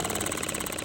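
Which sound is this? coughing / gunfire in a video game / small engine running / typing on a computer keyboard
small engine running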